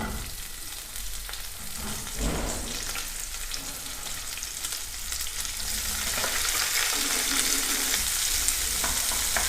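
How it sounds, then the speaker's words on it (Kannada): Onions sizzle and fry steadily in a pan for mutton sambar, a continuous close crackling hiss with occasional stirring scrapes and no voices. "ಈರುಳ್ಳಿನ ಸ್ವಲ್ಪ ಕಲರ್ ಚೇಂಜ್ ಆಗೋವರೆಗೂ ಹುರ್ಕೊಳ್ಬೇಕು."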